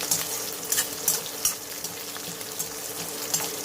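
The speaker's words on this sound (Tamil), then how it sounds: "பூண்டையும் இந்த ஸ்டேஜில் சேர்த்துடலாம். இது நல்லா வதங்கட்டும்." Onions and garlic sauté in a pan for a drumstick masala gravy, a soft steady sizzle with scattered light crackles and faint stirring.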